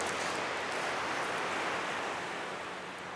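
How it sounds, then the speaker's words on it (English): Gentle waves wash onto Wellington's Eastbourne Beach on a calm day, a steady broad hiss of surf, fairly close and unbroken, with no voices. "This is Wellington's Eastbourne Beach on a beautiful calm day."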